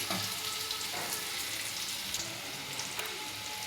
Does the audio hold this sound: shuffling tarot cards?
no